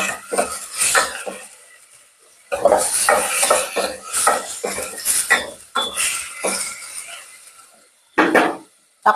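Mung bean stew with tomatoes being stirred in a pan for ginisang monggo, a run of close, irregular scraping and clinking strokes of a utensil against the pan, with brief pauses between bursts.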